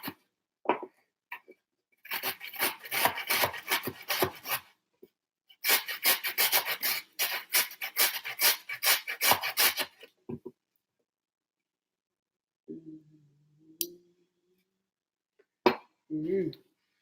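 Garlic rubs over a grater in two long runs of quick, rhythmic rasping strokes, with brief pauses between them, followed by a few faint murmurs.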